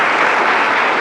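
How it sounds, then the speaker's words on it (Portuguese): Audience applause closing a public lecture at a spiritist centre, a dense, steady wash of clapping hands that holds evenly throughout without any voices. "A palma é para vocês."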